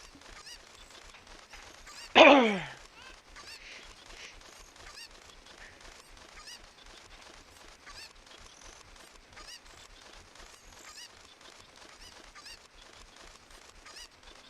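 A single loud chicken squawk bursts out early in the Ocarina of Time randomizer game, a short descending cry standing out over steady quiet game ambience with no talk.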